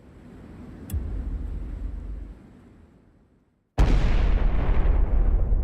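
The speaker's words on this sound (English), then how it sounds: "A massive explosion tears through the air. The blast is heard for miles." The roof of a nuclear reactor unit explodes in a documentary sequence: a deep boom hits, followed by a long rumbling decay, then after a moment of silence a second loud, sustained blast.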